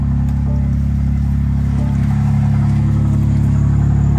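A BMW M2's engine runs with its exhaust valves open on a cold start, giving a loud, steady, deep drone that holds evenly throughout with no talking.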